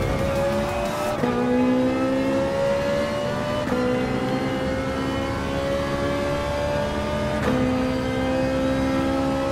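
Race cars in Gran Turismo Sport, including a Volkswagen Scirocco and a Lamborghini Huracan, drone steadily at high revs with sharp gear changes and some tire squeal, loud and continuous with no voices.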